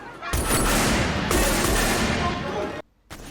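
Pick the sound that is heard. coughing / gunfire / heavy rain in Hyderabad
gunfire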